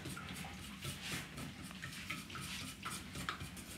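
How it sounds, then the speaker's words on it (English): Whisk stirring a blueberry mixture in a bowl, quick repeated scraping and clinking strokes in an uneven rhythm, faint and close with no talk. "take the whisk. And mix it. And start to mix it."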